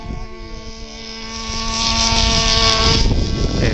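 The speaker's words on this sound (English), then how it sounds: "flying his plane outfitted with a ballistic recovery system" A radio-controlled model plane fitted with a ballistic recovery system flies overhead, its small engine giving a steady, droning whine with clear harmonic tones that swells louder partway through, with some wind noise and no talk.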